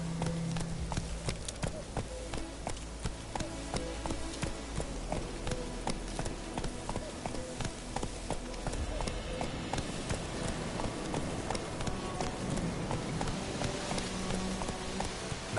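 Horse galloping in a video game, hooves pounding in a fast, steady clip-clop rhythm that runs throughout, close and prominent, with light background game sound.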